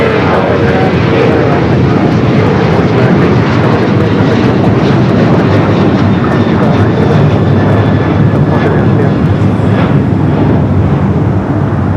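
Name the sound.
United Boeing 737-900ER jet taking off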